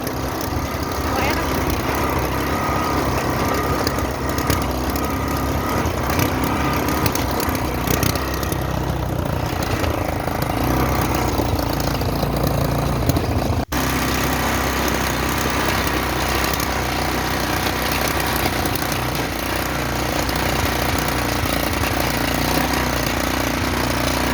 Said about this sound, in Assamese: আমি এতিয়া উঠিছোঁ মাউণ্টেইনিং বাইকত।